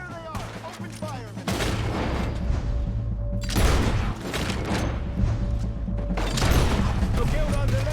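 Gunfire in a Red Dead Redemption 2 shootout, with loud bursts of shots and booming impacts repeating in heavy volleys across the scene, close and dense over a rumbling low background, with voices talking at moments.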